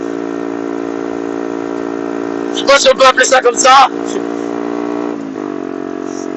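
A Yamasaki YM50 50cc moped engine hums steadily, then revs sharply in a quick series of blips as it downshifts, before settling back to a lower drone; the engine is loud and close, with someone talking over it.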